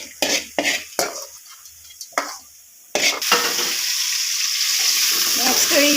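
Roasted ingredients are scooped out of a pan into a jar, bringing sharp scraping and clinking taps of a spoon on metal, then a loud, steady frying sizzle that swells and continues close up.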